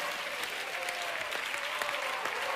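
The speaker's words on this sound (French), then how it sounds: "Un tonnerre d'applaudissements pour le rocker italien, s'il vous plaît, mesdames, messieurs." Sustained studio audience applause for an Italian rocker's performance on a televised singing competition, a dense, steady wash of clapping from a large crowd with no voices.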